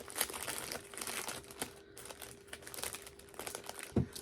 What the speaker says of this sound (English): So I put this in a plastic bag because I happen to have one.